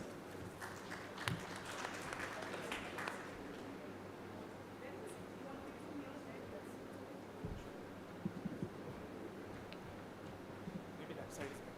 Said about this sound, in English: Let's welcome him on stage with a round of applause.